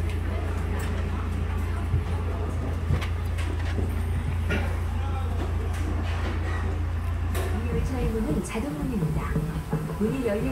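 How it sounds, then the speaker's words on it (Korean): An elephant road tram, a wheeled tourist train, climbs a long uphill road near a reservoir on a Korean forest trekking route. It gives a steady low engine drone with scattered clattering, and voices can be heard over it. "오랜만에 보는 코끼리 열차네요."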